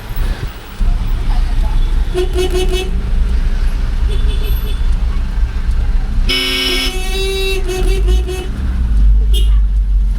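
Busy road traffic in heavy congestion, with a steady engine rumble and several loud car horn toots, one long sustained blast in the middle and shorter honks before and after, while people talk over it.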